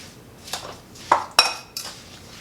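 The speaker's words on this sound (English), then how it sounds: "So we're just going to mix that together." Sauerkraut being stirred with a sugar dressing in a bowl, giving a few separate clinks and scrapes of a utensil against the dish, close and fairly clear, with no talking.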